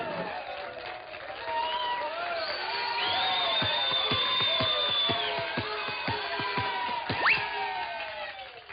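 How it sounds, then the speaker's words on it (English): A cartoon basketball arena crowd cheers and shouts wildly through the closing seconds of a game, a dense, sustained roar with whoops and yells, joined by an excited announcer's voice. "the crowd is wild"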